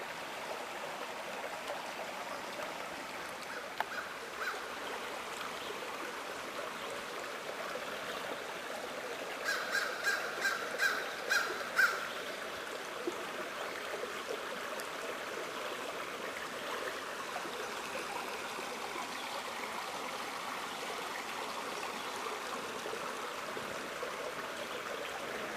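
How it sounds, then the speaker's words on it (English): Water pours from a split in a rock into the upper Elk River, a steady, even rush of flowing stream noise throughout, with a crow cawing a few times in the distance. "the water's actually going backwards because it's pouring out of this rock"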